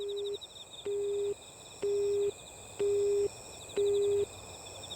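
Busy tone on an unanswered phone call: five evenly spaced steady beeps, each about half a second, with short gaps between them, faint against a quiet hum and a high whine.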